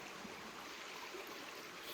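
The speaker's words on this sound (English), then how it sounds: "Here we are out on the river." Broad, steady rushing of a flowing river in New Hampshire, a continuous hiss of moving water heard close and unbroken, with no talk.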